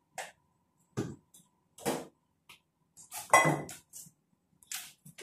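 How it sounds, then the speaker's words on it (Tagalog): Cooking pot lid set down on a pot of salmon-head paksiw simmering in coconut milk with vegetables, heard as a few sharp metallic clanks and clatters spread across several seconds, fairly close with quiet gaps between. "Tatakpan natin, guys, para yung gulay natin maluto."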